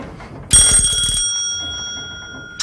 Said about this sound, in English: When the bell goes...